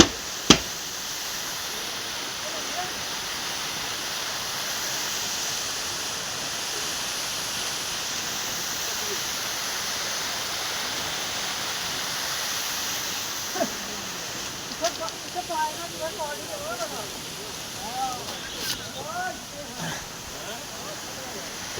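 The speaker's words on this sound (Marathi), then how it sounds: "हा बघा ही धबधबा, किती मोठा धबधबा आहे." A large waterfall roars steadily in a constant broadband rush, with voices and faint chatter emerging over it toward the end.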